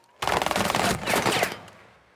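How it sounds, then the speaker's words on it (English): A rapid burst of video game gunfire, dense overlapping shots rattling for over a second, loud and close, then fading out. "I can still hear all the gunshots and footsteps"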